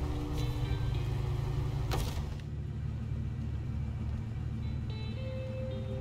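A truck engine in SnowRunner labors and rumbles steadily while the vehicle is stuck, with a loud mechanical burst near the start before the droning strain continues alone.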